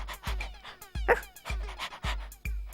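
Small dog Plim Ploum making short whimpering, yelping cries in quick repeated bursts, close and fairly loud, with no talk over them.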